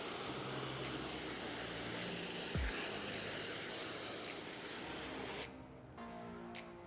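Water is squirted from a hose onto Wonderstone rocks, a continuous loud, close hissing spray that cuts off abruptly near the end, with no voices.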